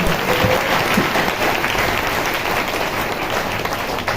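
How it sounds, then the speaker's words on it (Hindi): A church congregation clapping during a Hindi-language prayer service fills the room with continuous, dense applause, loud and even throughout, with no speech. "ताली बजा के प्रभु का धन्यवाद।"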